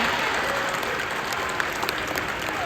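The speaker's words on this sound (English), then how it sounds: "Can we please get a applause down for Harper?" Crowd applause at a sea lion show at Hershey Park, a dense continuous wash of clapping from a large audience, loud and sustained throughout.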